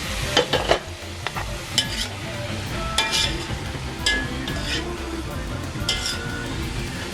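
Vegetables tossed with green seasoning stir-fry for Guyanese chow mein, a steady close sizzle broken by utensil scrapes and a few sharp clinks of metal against the pan.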